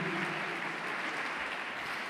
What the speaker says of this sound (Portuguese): Aplauda o nome desse Deus maravilhoso.